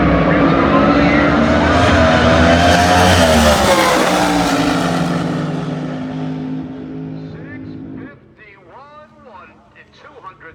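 Drag racing cars at the California Hot Rod Reunion roar loudly as they rev and launch down the strip, a dense engine blast that fades over several seconds into distant crowd and track noise, with commentators' voices partly over it.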